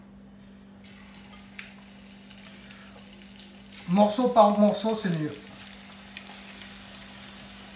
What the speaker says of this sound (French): Maintenant que l'huile est bien chaude, je vais mettre les morceaux de poulet à l'intérieur.